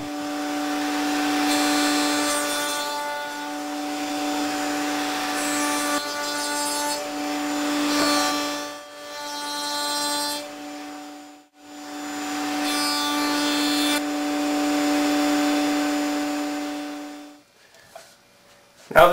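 A router in a router table cuts a chamfer along the bottom edge of a wooden tool-stand leg. The motor holds a loud, steady whine, rising and dipping in several passes with brief gaps, then winds down near the end.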